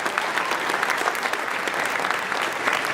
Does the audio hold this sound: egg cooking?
no